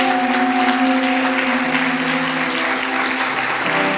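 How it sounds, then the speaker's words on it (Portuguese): A church congregation applauds during a Sunday evening service, steady dense clapping filling the room with a sustained tone or voice held underneath. "desocupe as tuas mãos e aplauda a palavra do Senhor"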